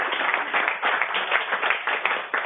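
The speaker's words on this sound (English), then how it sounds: "Let's have a rousing round of applause." Steady applause from a conference audience at a public forum, broadband clapping running evenly throughout without a break, moderately loud and fairly close.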